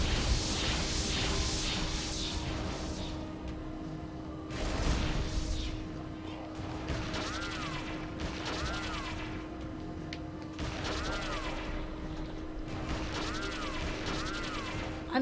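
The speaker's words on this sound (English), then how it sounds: "I'm just shooting you with the revolver just for the hell of it." Revolver shots fired in a sci-fi combat video game, several sharp bursts spaced a few seconds apart over a steady electronic hum and game effects, moderately loud.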